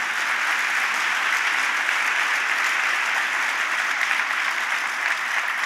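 Congregation applause in a church service, a dense, even roar of many hands clapping together, loud and sustained without a break and with no one speaking over it.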